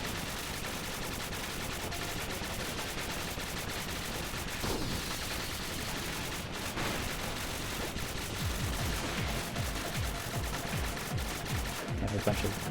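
Rapid bursts of in-game gunfire during a ship-based boss fight in the platformer Spark the Electric Jester 3, continuous dense shooting layered over game music and effects, with some busy action noise toward the end.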